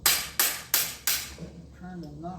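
Hammer blows knocking at the bolt head screw of a Berthier Model 1916 rifle: four sharp, evenly spaced metallic strikes, close and loud, then a brief low voice as the hammering stops.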